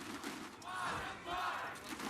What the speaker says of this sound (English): The crowd absolutely loving it as well.